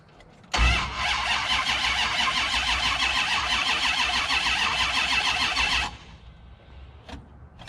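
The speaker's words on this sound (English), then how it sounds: "cold start on the Hemi" A 1968 Dodge Charger with a Hemi engine, cold and not run for a while, cranks for about five seconds in a loud, continuous whirring grind, close by, then cuts off into quiet.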